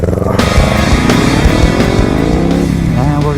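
A motorcycle engine revs loudly and close through its exhaust, a rough, rising roar with sharp blips between throttle pulls, sounding alone without talk.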